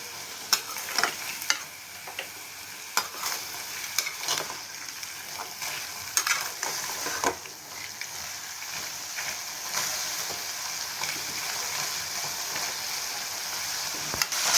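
Black chickpea sundal is stirred in a pan, with a spoon tapping and scraping the metal again and again over a soft, steady sizzle and no voices.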